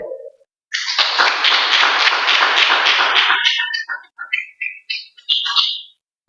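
A church congregation claps loudly together for about three seconds at a Spanish-language sermon, then the sound breaks into scattered shorter bursts and chirpy noises before fading out.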